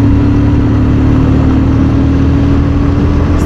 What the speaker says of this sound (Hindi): सुने साइलेंसर की आवाज़